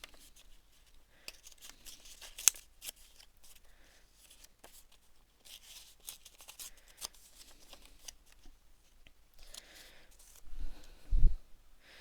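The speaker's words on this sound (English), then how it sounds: "so I'm just going to tear a bit off." Sheets of craft paper torn by hand for a layered art piece make soft, scattered ripping and crinkling bursts, close and quiet, with a couple of sharper rustles near the end.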